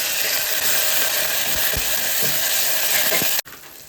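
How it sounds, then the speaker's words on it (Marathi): Ginger garlic paste sautés with onion in oil for mutton sukka, a dense, even hiss of frying with a few soft stirring knocks, cutting off abruptly near the end. "आणि जी अद्रक लसूणची पेस्ट घेतली ती आपण यात सगळे ॲड करणार आहोत, आणि ती पण सॉटे करून घ्यायची तेलामध्ये छानपैकी"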